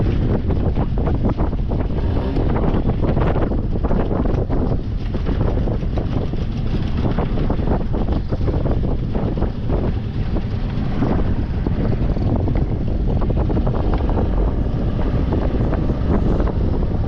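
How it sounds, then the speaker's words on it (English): Steady, heavy wind buffeting the microphone, a constant loud roar with low rumble throughout, likely out on open water at Breede River while fishing. "It's a bit windy"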